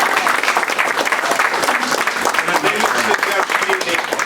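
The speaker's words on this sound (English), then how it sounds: "She deserves a big round of applause" Audience applause fills a room at a community event honoring a district leader, a dense, steady wash of many hands clapping at close range with voices mixed in throughout.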